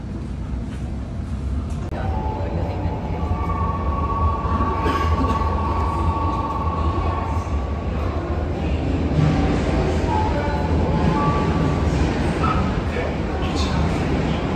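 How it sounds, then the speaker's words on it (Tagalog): A train rolls past in Japan, near Gotemba, with a steady loud rumble and rattle through the whole stretch. A family talks excitedly over it and a dog barks briefly. "There's the train."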